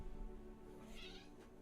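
A cat just placed on a cat stand gives one short, faint meow midway through, with a quiet room hum around it.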